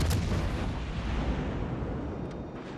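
Naval gunfire from a light cruiser in World of Warships, a loud rumbling salvo of boomy blasts that rolls on and slowly fades, with no talk over it.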